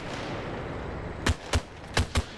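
An RPK light machine gun fires in a WW2 video game, with four sharp, punchy shots in quick irregular succession over a steady background hum, loud and fairly close.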